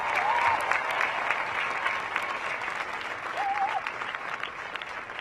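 Sustained crowd applause and clapping at an outdoor George Floyd protest in Denver, a dense, fairly distant wash of hands with a few whistles cutting through, continuing evenly for several seconds.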